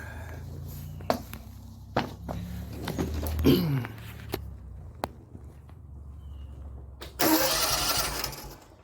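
Small engine with a clutch being started and run during an electrical fault diagnosis, with a few cranking pulls, clicks and footsteps before it catches and roars loudly at the end.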